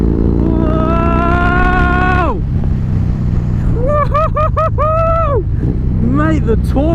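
A Harley-Davidson with a 110 cubic inch V-twin revving hard while riding, loud rising engine pitch through a gear, a brief dip, then several sharp throttle blips and another pull, with heavy wind rumble throughout.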